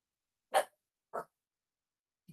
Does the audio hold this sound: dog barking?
yes